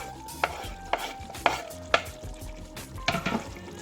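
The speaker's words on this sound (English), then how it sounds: "So we're going to start adding the next couple ingredients. These are those cut up tomatoes. They're peeled and chopped." Peeled, chopped tomatoes are stirred and scraped in a frying pan, a run of five or six evenly spaced scraping strokes, close and fairly loud, over a low sizzle.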